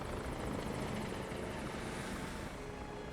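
Steady helicopter rotor chop with a broad roaring engine wash, continuous and fairly loud throughout, no voices, from a film soundtrack mixed in Dolby Atmos.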